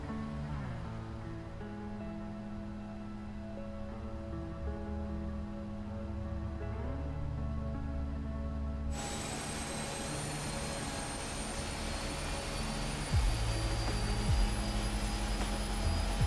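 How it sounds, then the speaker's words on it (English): Boeing 777 jet engine number 1 spooling up in a flight simulator game during pushback, a steady loud rising whine and roar that builds into a bright high-pitched turbine tone, sustained with no talk. "let's go ahead and start engine number 1"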